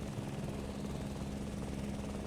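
A helicopter in Microsoft Flight Simulator 2024 drones steadily in the background, a continuous low rotor rumble with no breaks and no voices.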